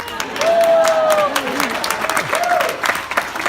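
Wedding guests break into applause during a toast, a full crowd clapping steadily under voices and laughter close by.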